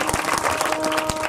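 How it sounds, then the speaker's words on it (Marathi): An audience claps along at a kirtan during a village saptah gathering in Arangaon. The clapping is dense and close, with a few sharper beats over a sustained tone, all within a short burst. "टाळी वाजवा जोरात वाजवा"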